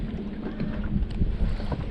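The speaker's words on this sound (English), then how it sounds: "the wind's horrible" Strong wind of around 30 mph on Santee Cooper lake during bass fishing buffets the microphone from a boat. Dense, steady rumbling gusts carry faint water movement beneath them.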